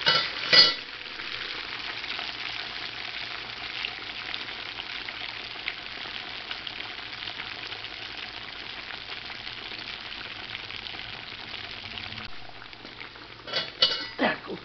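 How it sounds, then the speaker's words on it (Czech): Mushroom schnitzels fry in a pan on their second side, a steady close sizzle of hot oil running throughout, with a couple of brief utensil knocks at the start and near the end. "Smažíme z druhé strany."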